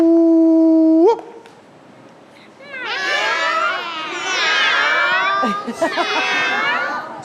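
At a children's Children's Day party in Albania, children imitate a dog's bark in loud, overlapping voices after a brief sustained tone, with clustered repeated calls forming an excited chorus.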